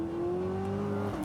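A Corvette ZR1 engine drones at a steady, strong pitch throughout, loud and close with no talk over it, the tone rising slightly before easing off near the end.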